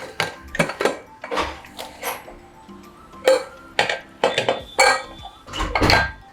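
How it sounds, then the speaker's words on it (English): A pressure cooker full of cooked matar is opened, producing a run of sharp metallic clinks and clatters from the lid and utensils, spaced irregularly and heard close up in a quiet kitchen. "Now I'm going to open the cooker and show you how the matra is cooked."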